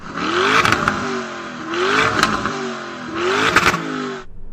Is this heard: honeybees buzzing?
no